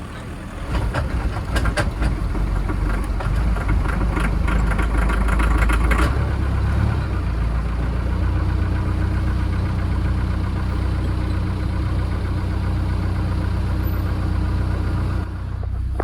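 Car that broke down in the Himalayas starts up and settles into a steady, loud, rumbling idle close by, after a rougher, clattering burst of cranking in the first seconds.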